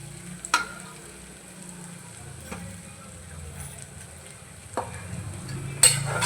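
Tomato masala for chicken pulao frying and being stirred in a pan, with a steady low sizzle and a few sharp clinks of a spoon against the pan.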